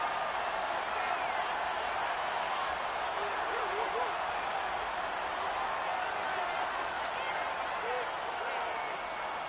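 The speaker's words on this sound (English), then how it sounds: "Plenty of shouts from this crowd as they watch the replay." Stadium crowd in a football video game (Eagles vs Saints) roars and shouts steadily throughout, a dense continuous wash of voices at moderate level with no clear breaks.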